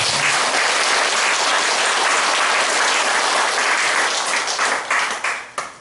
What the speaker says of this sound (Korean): 박수, 칭찬의 박수 한번 더 보냅시다